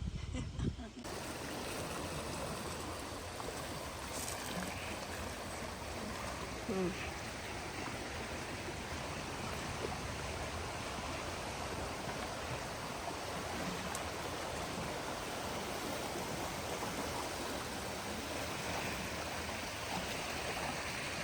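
A river flows in a steady, unbroken broadband rush of water. It holds an even level throughout at close range with no clear pauses.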